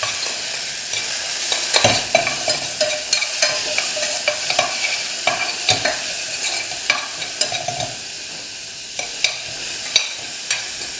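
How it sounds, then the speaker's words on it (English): Onions fry in a pan with a steady, close sizzle while a utensil stirs them, giving repeated scraping clicks and taps against the pan throughout. "We'll cook until the onions are a bit soft and semi-translucent."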